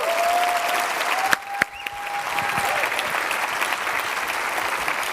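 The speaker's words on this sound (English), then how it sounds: "So let's give them a round of applause." An audience applauding students at an event, sustained clapping that holds throughout, with a few sharp knocks partway through and a thin whistling tone running underneath.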